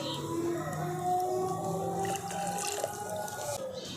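Water being measured out by the bowlful, two and a half bowls, and poured while preparing a Bengali pitha batter; steady liquid splashing and trickling close by, continuous for the whole stretch with no talk.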